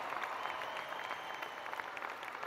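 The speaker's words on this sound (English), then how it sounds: "And those of you that can't rise, clap." Graduation audience applauding at a spring commencement ceremony, a continuous mass of clapping from a large crowd, moderately distant and even in level throughout.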